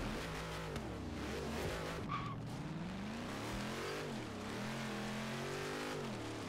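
Cars race in the video game Forza Horizon 3, a Trailcat chasing another Trailcat, with steady engine drone that rises and falls through gear changes and a brief squeal, moderately quiet and continuous.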